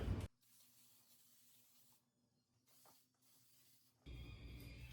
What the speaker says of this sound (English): shake your aerogel hairspray and spray it all over your hair